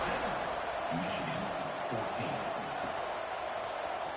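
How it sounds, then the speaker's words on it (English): Steady stadium crowd buzz in a College Football 26 game with Oregon, a dense continuous roar of fans with no breaks, loud and even throughout, under faint commentary. "this crowd is buzzing after that last score"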